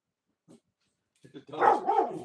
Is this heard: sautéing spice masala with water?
no